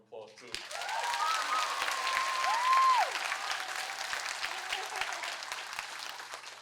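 A speech audience breaks into sustained applause for the speaker's brother, loud and steady for several seconds, with a brief cheer or whistle near the start before gradually fading.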